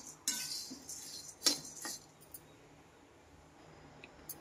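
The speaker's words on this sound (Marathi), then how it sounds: "आपला साबुदाणा भाजतोय व्यवस्थित" Dry sabudana (tapioca pearls) roasting in a pan, stirred with a utensil: a few sharp scraping clinks near the start, then a quiet, sparse rattle fading out.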